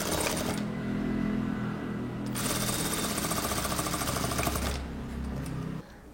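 A sewing machine runs in two bursts of fast, even stitching with a short pause between, close and steady, then stops.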